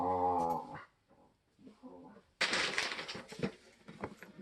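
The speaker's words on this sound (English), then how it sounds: "My dog over there wants my attention." A dog whines and growls for attention indoors, starting with a high drawn-out whine, then soft grumbles, then a louder rough growling burst, close by and alone.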